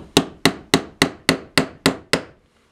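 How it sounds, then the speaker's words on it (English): A hammer taps an awl into a scrap-wood handle: eight sharp, evenly spaced strikes about a third of a second apart, each ringing briefly, close and loud, then stopping. "So what I'm going to do is just use a hammer."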